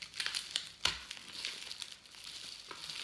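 Paper crinkling and crumpling in short bursts with a few sharper crackles as an advent calendar gift is unwrapped, close and fairly quiet, with no talking.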